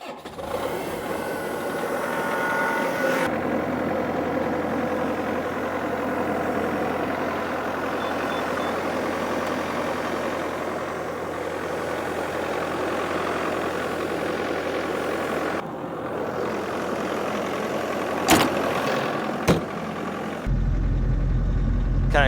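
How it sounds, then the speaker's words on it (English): Cold excavator diesel engine idling while it warms up, a steady low rumble with occasional beeps and clanks, running throughout and briefly changing tone near the end. "while we let the excavator warm up"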